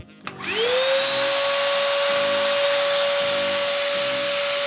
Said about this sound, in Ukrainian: пробуємо вмикати пилосос